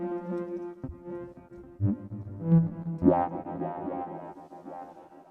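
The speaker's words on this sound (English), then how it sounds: "by putting a reverb module inside the step effects, it allows us to have a lot of space and motion" A synth tone in Logic Pro X passed through a reverb module inside step effects, with sustained pitched notes that swell and pulse as the reverb space shifts, moderately loud and without speech.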